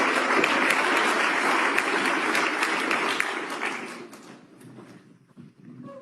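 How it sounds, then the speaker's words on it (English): An audience at a gathering during a Canada visit applauds in a dense, sustained wash of clapping that fades out after about four seconds into quieter room sound. "Big clapping for you"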